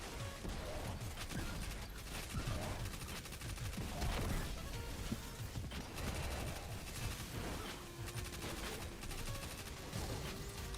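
Rapid SMG bursts in the shooter game Destiny 2, dense crackling automatic fire repeating throughout with mechanical clicks and other gunfire mixed in, fairly quiet overall.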